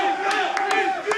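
Loud, continuous crowd noise of chanting and cheering from esports fans at a StarCraft 2 match, with a few sharp claps or shouts rising above the steady roar.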